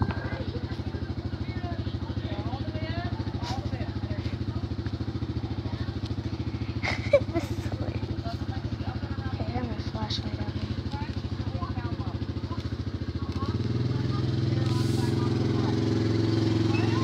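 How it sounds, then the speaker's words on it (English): A motorcycle engine idles with a steady low rumble throughout, growing slightly louder and deeper toward the end as it revs, while people talk faintly over it. "A motorcycle."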